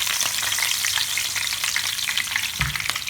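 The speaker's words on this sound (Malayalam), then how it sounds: "അപ്പോൾ ആദ്യം തന്നെ നമുക്ക് കുറച്ച് കറിവേപ്പില ഇട്ട് കൊടുക്കും വെളിച്ചെണ്ണയിൽ." Curry leaves hit hot coconut oil for a Kerala-style chicken fry and crackle and hiss loudly and steadily up close. A sharp spatter comes near the end, and no voices are heard.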